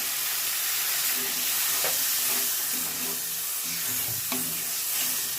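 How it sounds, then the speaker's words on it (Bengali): Water splashed into a pan of fried spice paste, giving a loud, close, steady sizzle and bubbling hiss with a few soft clinks of a utensil. "যে মশলাটা ভালো করে কষানো হয়ে গেছে তেল ছেড়ে দিয়েছে এবার এর ভিতরে আমি এক বাটি জল দিয়ে দেবো"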